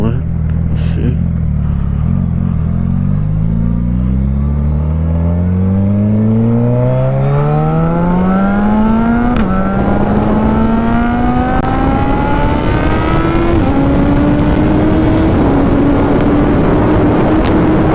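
A Gen 3 Suzuki Hayabusa accelerates hard down a straight stretch of road; the loud, close engine whine climbs steadily through the gears, with two clear upshifts midway, and wind rush underneath.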